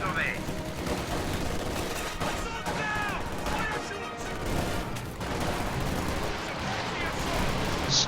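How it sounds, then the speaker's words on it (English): A Stuka attacks during a World War II strategy game battle, heard as dense bursts of gunfire and explosions over a continuous loud battle din, with a voice talking throughout. "Stuka firing."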